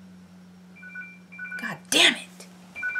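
A telephone rings with steady electronic tones and a few repeated beeps, fairly quiet beneath a loud, exclaiming voice in the middle.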